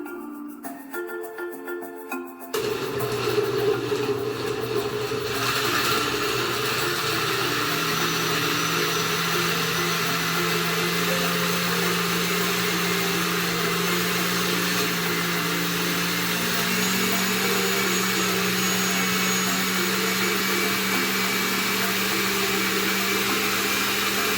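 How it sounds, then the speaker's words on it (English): A kitchen blender whirring through fruit, a loud, continuous motor hum with a grinding edge that settles into a steady drone for over twenty seconds, no talking. "we're ready to blend"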